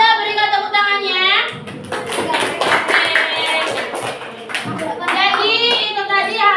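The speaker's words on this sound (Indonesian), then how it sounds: "Kalau sudah, berikan tepuk tangannya." Students in a classroom guidance session clap their hands in a brief, uneven burst in the middle, with a voice before and after it and loud speech running throughout.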